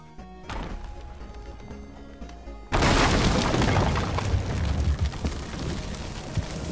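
Gunpowder barrels blow up in the pirate video game Sea of Thieves. A heavy, loud blast bursts in abruptly after a quieter stretch and then roars on as a dense, rumbling, crackling wash to the end.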